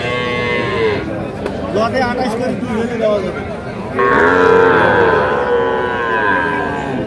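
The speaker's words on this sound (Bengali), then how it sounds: "এগুলো হচ্ছে ষাঁড় বাচ্চা" Bull calves at a busy cattle market bellow in loud, drawn-out moos, one long call rising clearly near the end, over the steady hum of market chatter and people talking.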